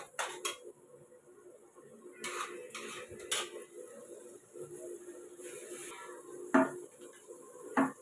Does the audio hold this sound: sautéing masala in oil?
yes